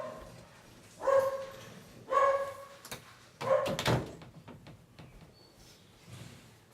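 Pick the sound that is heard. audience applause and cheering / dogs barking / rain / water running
dogs barking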